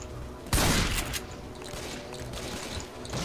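Gunfire from shooting in modded Left 4 Dead 2: one sharp loud blast followed by a dense, fairly quiet backdrop of distant popping shots and game noise, no talk.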